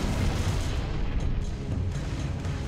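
Rocket launcher explosion in Halo: Reach, a dense, rumbling blast that fills the whole clip with sustained low booming and crackling debris, loud and continuous with no talk.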